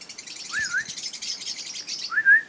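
A pet bird, an African species, gives two clear rising-and-falling chirps about two seconds apart, close and distinct against a soft hiss of background noise.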